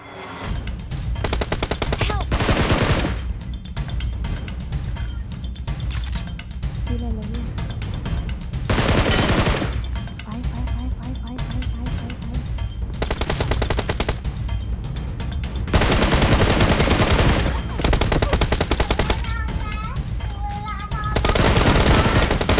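Scar-L assault rifle fire in PUBG Mobile, loud bursts of rapid automatic shots separated by short pauses, with game sound effects and some talking between the volleys.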